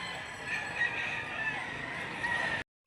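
Chickens at a livestock and poultry market in Padre Garcia, Batangas, with a steady murmur of clucking and distant crowing running through a busy, noisy backdrop before it cuts off abruptly.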